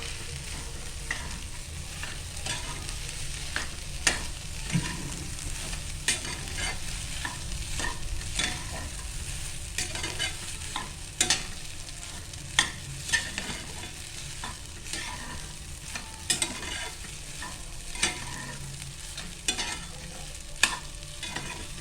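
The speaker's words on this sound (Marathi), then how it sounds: "आता आपण टाकते भात जो आपण शिजवून घेतलेला आहे" Cooked rice for egg rice is stirred in a hot pan: steady frying sizzle with repeated scraping and clinking of a spatula against the pan, close and continuous throughout.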